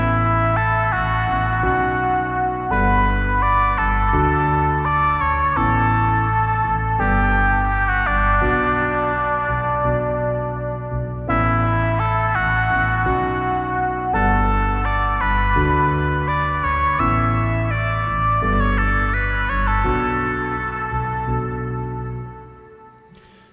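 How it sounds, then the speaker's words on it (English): Serum synth lead in a chillout style, a wobbly echoing melody played over a steady piano backdrop, loud and continuous with no talking before it fades at the end. "there's just like a bit of a piano backdrop, and then you'll hear the lead over the top as well"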